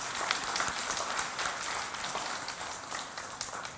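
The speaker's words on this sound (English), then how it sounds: "I think they deserve a big round of applause." Audience applause at a financial seminar, a steady dense wash of many hands clapping throughout, fairly even in level with no speech over it.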